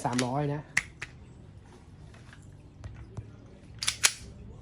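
Sharp snapping shots from an EMG Glock 17 airsoft pistol fired through a chronograph, a few crisp cracks scattered among soft clicks and a final double pop, with someone talking over the start.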